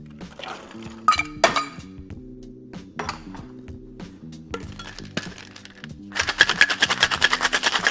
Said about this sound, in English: Then fill your cocktail shaker with ice and give it a good shake.